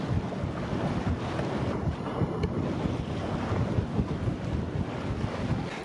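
Strong wind of about 17 knots roars steadily across the microphone, mixed with the rush of water against a moving sailboat.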